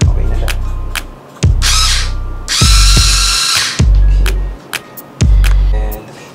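Handheld power drill whirring in short bursts of a second or so, starting and stopping repeatedly at close range in a bedroom during IKEA home organization work, with brief pauses and clicks between runs.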